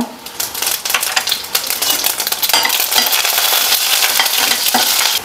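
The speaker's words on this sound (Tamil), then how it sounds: "இப்போ தாளிப்பு போட்டுக்கலாம். கடுகு, அதுக்கப்புறம் வந்து காஞ்ச மிளகா" Mustard seeds and dried chili hit hot oil in a home kitchen, making a loud, dense sizzle with rapid crackling pops and spattering that build and hold steady throughout.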